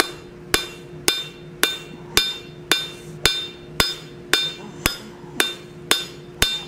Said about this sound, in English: We're using the cross of the peen to make sure we don't grow any more in length.